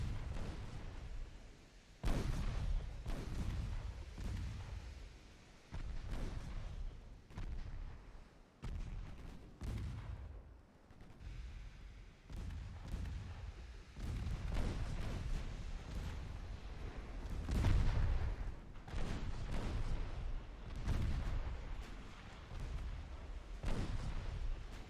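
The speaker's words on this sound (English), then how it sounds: "Let's have the secondary guns deal with these DDs" Secondary naval guns of a warship blazing away at enemy destroyers in the Ultimate Admiral Dreadnoughts naval battle game, a long run of heavy booming shots at irregular intervals over a steady low rumble, loud and close, with no talking.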